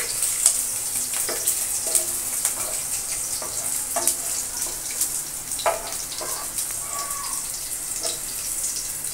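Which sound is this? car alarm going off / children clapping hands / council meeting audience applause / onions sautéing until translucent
onions sautéing until translucent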